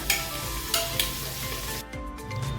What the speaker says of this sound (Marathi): आता हे थोडस मीडियम गॅसवर दोन मिनटं परतवून घेऊया